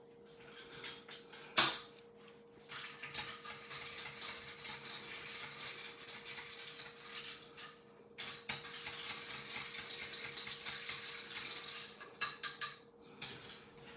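An orange-juice cocktail being stirred in a glass gives close, rattling clinks in two sustained bursts, with a short sharp knock just before them.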